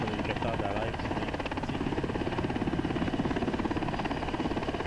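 Helicopter engine and rotor in the ArmA 3 military simulation game, a steady, loud rhythmic thrum heard from inside the cabin, continuous throughout.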